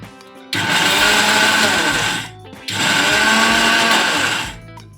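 A mixer grinder blends fasting appe batter with curd, running in two loud, steady whirring bursts separated by a brief pause, with no talking.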